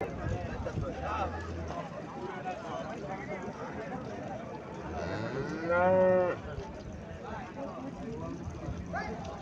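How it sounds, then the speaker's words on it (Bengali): A Friesian dairy cow at a cattle market gives one loud, close moo about two-thirds through, against a background of people talking and general crowd noise. "এখানে আরো একটা গাভী দেখা যাইতেছে"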